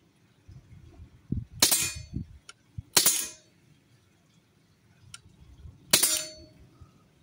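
A Huntsman FAL 4.5mm CO2 airgun fires in a garden at a target, three sharp cracks spaced a second or more apart, each followed by a brief metallic ring, with faint ticks and quiet handling noise between.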